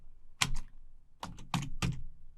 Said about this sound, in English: So to do it, type mv